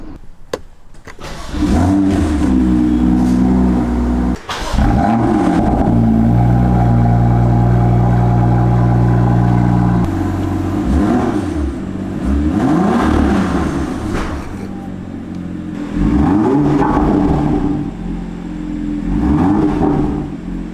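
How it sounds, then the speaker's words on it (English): A BMW M2 engine revs loudly up and down, then settles as the exhaust gives off repeated low burbles and pops on the overrun while the revs drop. "it makes some good sort of burbles on the overrun if you're in the right mode"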